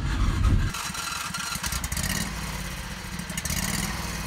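Renault car powered by a 670cc Predator V-twin engine on its first drive, a loud rough engine rumble running throughout with a burst near the start and steady choppy pulsing after.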